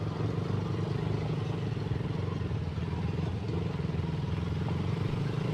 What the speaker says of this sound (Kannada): ನಮ್ಮ ನಿಂಜ ಬೈಕ್ ಅವ್ರು ತುಂಬಾ ಕಷ್ಟ ಪಡ್ತಾ ಇದ್ದಾರೆ ಹೋಗ್ಲಿಕ್ಕೆ